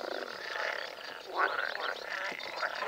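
A chorus of frogs croaks at a carp fishing pond during a competition, dense overlapping calls with a few sharper, louder croaks standing out against the continuous din.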